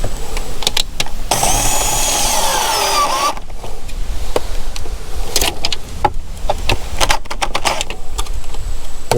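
A power drill drives screws into a wooden board on an off-grid property, giving a loud whirring run of about three seconds, then scattered knocks, clicks and short bursts of the driver close by.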